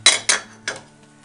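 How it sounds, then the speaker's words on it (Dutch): A small saucer and other dishes clinking in a home kitchen: three sharp, close clinks in quick succession, the last softer, then a faint rattle fading out, with no talking. "Even een schoteltje naar de keuken."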